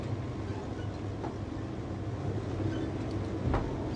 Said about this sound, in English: it's just the noise of the engines, I think. Like electric noise.